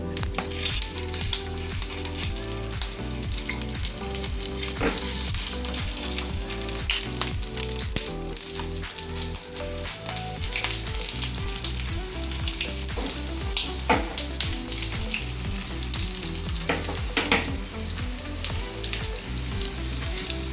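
Ragda patties frying in hot oil over a medium gas flame, a steady dense sizzle with scattered crackles and pops running throughout, loud and close with no talking.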